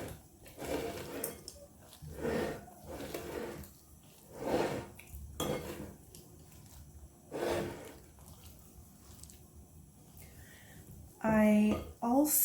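Chocolate and almonds dumped into cookie dough and folded in a bowl, giving repeated dull scraping and knocking thumps from the bowl and utensil at a steady pace, close by, with a voice talking in between.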